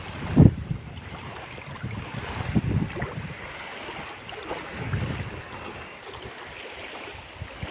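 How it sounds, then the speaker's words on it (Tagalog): Gusty wind buffets the microphone with low rumbling bursts, over a steady wash of moving water nearby. "Lumalakas pa yung hangin."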